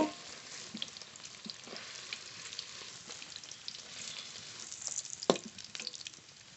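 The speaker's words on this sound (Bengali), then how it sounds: "পনির খুব ভালো করে ভেজে নিয়েছি নামিয়ে নেব" Paneer frying in oil, a quiet close sizzle with soft crackles and pops, one sharper spit near the end, and no voices.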